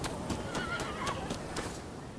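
A horse whinnies near a horse seller in the video game Rise of the Ronin, short neighing calls over a steady ambient bed with faint hoof clops.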